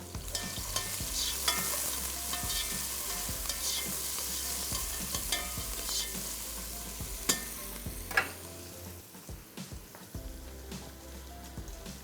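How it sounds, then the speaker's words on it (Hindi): Onions fry in a pan under a constant bright sizzle while a spoon stirs them, scraping and knocking the metal repeatedly in an uneven rhythm, close and fairly loud, with no voices. "प्याज को थोड़ा सा चला देंगे जनाब ताकि प्याज जो है"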